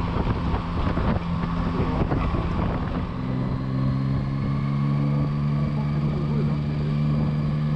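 A Yamaha Tracer 9 GT motorcycle being ridden on a wet road, its engine droning steadily with a rising tonal whine under constant wind rush at the microphone.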